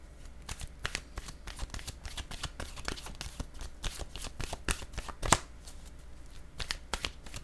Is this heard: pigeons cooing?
no